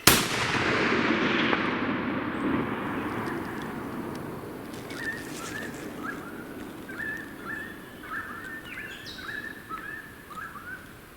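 A single gunshot rings out during a stag hunt on open ground, with a sharp broadband burst at the start decaying into a long outdoor rumble, followed by faint bird calls in the distance.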